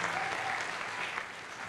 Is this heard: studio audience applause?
yes